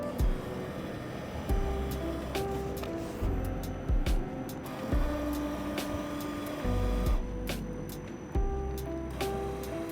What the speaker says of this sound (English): in that gold canister there is a motor, and that's what Fiddles with the automatic preload